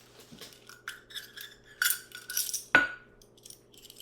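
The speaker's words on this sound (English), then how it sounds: "Then I'm going to add a half of a teaspoon of salt." Metal measuring spoons clink and scrape as half a teaspoon of salt is measured over a bowl, a few light clinks and taps, one sharper ring near the end, quiet and close.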